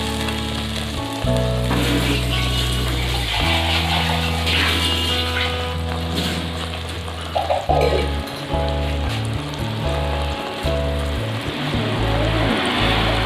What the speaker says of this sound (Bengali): ধনে পাতার বাকি ধোয়া জলটাও দিয়ে দিলাম